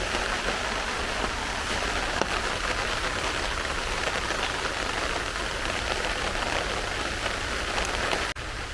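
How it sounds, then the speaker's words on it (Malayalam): Steady rain pattering down on a surface, dense and continuous throughout, with no voices. "ഇപ്പം എന്തേ മഴ തുടങ്ങി"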